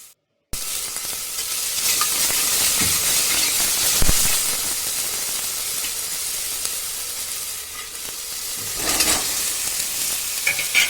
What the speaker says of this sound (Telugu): ఇప్పుడు మనం రెడీ చేసుకున్న మసాలా పేస్ట్ కూడా వేసుకోవాలి. అది కూడా బాగా ఫ్రై అవ్వాలండి.